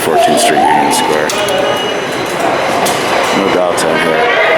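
A New York subway train rumbles at Union Square station, 14th Street, with screeching wheel squeals and metallic clatter over a steady roar, loud and close, while people talk.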